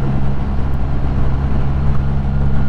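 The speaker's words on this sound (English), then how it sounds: "this truck wants us to pass him." Steady low engine drone of a truck on the road behind riders on a Kawasaki Z900 and Triumph Rocket 3 and T120, heard as continuous loud rumble mixed with wind and motorcycle noise, no talking.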